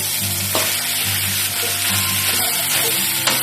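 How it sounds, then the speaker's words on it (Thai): Rice with green curry paste, chili, kaffir lime leaves, basil and stink beans is stir-fried in a pan for a vegetarian dish, a close, continuous sizzle with spatula scrapes and clanks against the pan. "ผัดให้ข้าวเข้ากับเครื่องทั้งหมดที่เราใส่ไปนะคะ"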